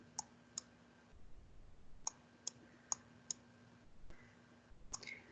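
A computer mouse clicks sharply while someone writes with it, isolated crisp clicks spaced irregularly, some in quick pairs, close and clear over a faint background hum.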